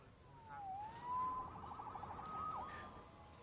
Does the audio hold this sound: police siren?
yes